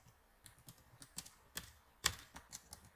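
Soft, irregular clicks of typing on a computer keyboard, quiet and close, with a few sharper key presses standing out among the lighter taps.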